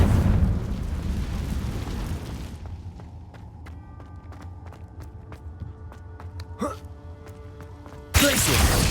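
A Confringo fire spell blast in the Hogwarts Legacy video game, a loud rumbling burst followed by quieter game sounds and a short whoosh, then another sharp eruption at the end.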